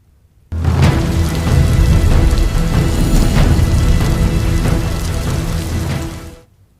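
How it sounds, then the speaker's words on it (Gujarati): Heavy torrential rain pours down in Santalpur, Patan, a dense, loud, unbroken roar of water hitting surfaces that starts abruptly and fades out at the end. "પાટણમાં સાંતલપુરમાં સાંબેલાધાર વરસાદ"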